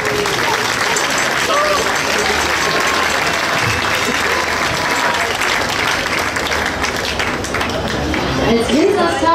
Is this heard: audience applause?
yes